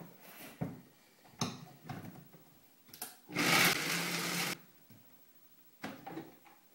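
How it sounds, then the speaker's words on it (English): A blender grinds cashews in several short pulses, the longest a loud whirring burst in the middle, with quiet pauses between them. "I'll put these in the blender."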